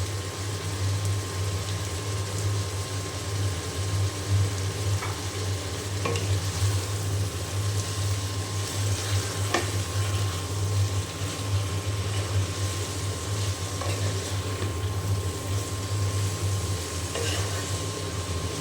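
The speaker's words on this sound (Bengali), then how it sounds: "এখন খুব ভালো করে আমি নেড়ে চেড়ে ঢেকে দেব" Turmeric powder and salt being stirred in a frying pan give a steady, continuous sizzle with faint scraping and clinks, close and even throughout, with no voices.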